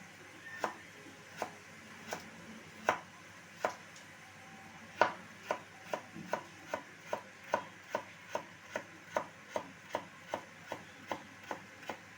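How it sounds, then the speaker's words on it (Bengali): A knife finely chops carrot on a board with a steady run of crisp, evenly spaced taps that speed up slightly as the cutting goes on. The taps sound close and fairly quiet, with no talking. "গাজরটা এখানে আমি একদম ছোট ছোট করে একটু কুচি করে নেব।"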